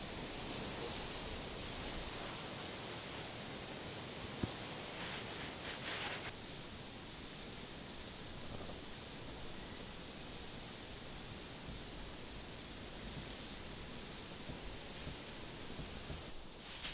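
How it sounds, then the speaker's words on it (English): A creek flowing behind a hunting spot in the Georgia woods on a November morning, a steady broadband rush of water mixed with some wind noise, continuous and moderately distant. "I've got water here behind me in the creek."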